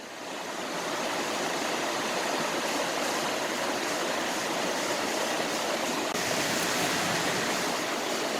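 A large body of water gives off a loud, steady rushing wash that continues without a break and without voices.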